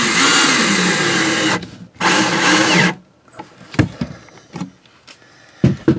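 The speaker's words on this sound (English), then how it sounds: "it is hard to drill right through that metal" Power drill driving through metal on an RV dinette repair: two loud bursts of whirring, the first about a second and a half long, then a shorter one, followed by scattered clicks and handling knocks.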